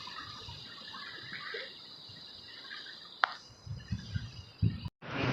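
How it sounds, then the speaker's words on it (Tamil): Water rushes steadily with force in a constant hiss and gurgle, with insect-like chirring above it and a few louder splashes and knocks toward the end. "தண்ணி ஃபோர்ஸ் தள்ளுதுன்னு நினைக்கிறேன்."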